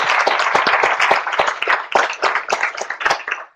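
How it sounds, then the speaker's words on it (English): A small audience at a medical grand rounds lecture claps after a presentation, with individual hand claps distinct and close, forming an uneven, moderately loud patter that thins slightly toward the end. "give you a big round of applause for your presentation"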